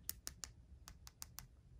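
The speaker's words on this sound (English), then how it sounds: "It's making a clicking sound. That's usually how you know that your activator is dry." Dry nail activator on an acrylic nail gives off about seven faint, sharp clicks, spaced irregularly over low background hum, with no voices.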